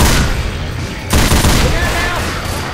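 Sustained machine gun fire in the video game Left 4 Dead 2, a dense, loud stream of rapid shots with a brief break partway through, while someone talks over the gunfire.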